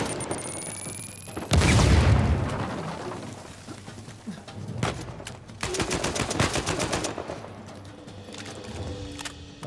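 Gunfire in Uncharted 4: A Thief's End, a loud burst of shots followed by rapid repeated firing and scattered bangs over game ambience, with no talking.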